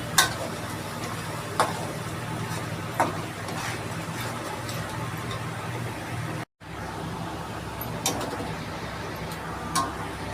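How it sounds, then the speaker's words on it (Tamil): Onions sautéing in a pan until browned for a fish curry, a steady low sizzle with soft periodic stirring ticks and a brief dropout midway. "வெங்காயம் வந்து கொஞ்சம் நல்லா ப்ரௌன் ஆகும் வரைக்கும் ஒரு 20 நிமிஷம் நம்ம நல்லா வதக்கிக்கலாம்"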